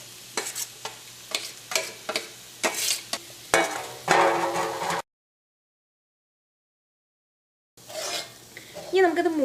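Grated coconut being stirred into a sizzling tomato masala for Kerala cauliflower curry, with a spoon scraping and clinking the pan in short strokes, then a brief silence before more stirring and frying.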